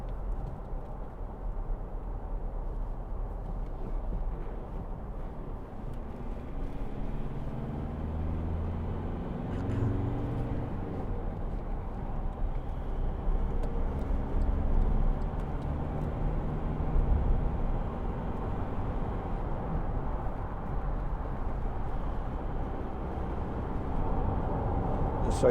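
A 2012 Volkswagen Amarok 2.0 BiTDI pickup drives along a road, its diesel engine and tyre roar forming a steady, moderately loud low rumble that rises and falls slightly with speed, with no one talking.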